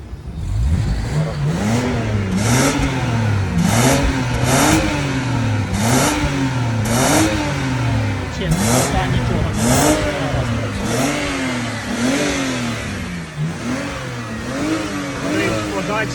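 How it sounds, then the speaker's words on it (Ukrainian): A 2009 facelift BMW 5 Series E60 with a 3.0 petrol engine running on gas, automatic with xDrive, revved repeatedly while stationary, its loud engine note rising and falling in a steady series of blips, close up. "Зараз у нас товариш погазує."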